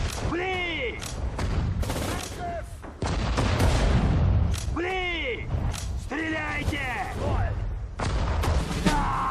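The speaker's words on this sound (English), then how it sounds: "I'm going to throw an anti-tank grenade to about right there" Battle sounds from Sudden Strike 4 in a Moscow mission follow an anti-tank grenade throw, with repeated booming blasts and gunfire bursts over rumbling combat noise. Chirping effects recur between the blasts, and a person speaks intermittently over the game.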